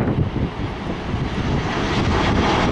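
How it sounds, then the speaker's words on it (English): An Air France Airbus A380 passes overhead as a steady, broad roar that holds for a few seconds, mixed with heavy wind buffeting on the microphone and no talk. "Airbus A380."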